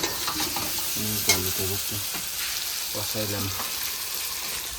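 Meat with potatoes cooks in a pot, giving a steady frying sizzle with stirring noises, while short snatches of voices rise intermittently over it.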